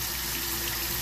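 Paper coloured with a black Sharpie marker rinsed under a running tap, giving a steady, close, continuous rush of water with no talking.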